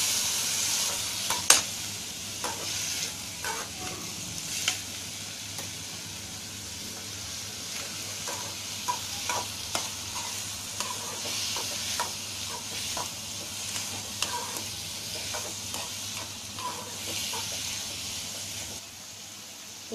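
Snake gourd sautéing in a pan with cooked moong dal, a steady sizzle broken by repeated scraping stir strokes and clicks throughout, with no talk.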